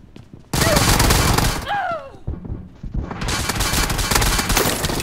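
Gunfire in the video game PUBG comes as loud, dense bursts of rapid shots that break off briefly, then resume as a sustained barrage, with voices mixed in.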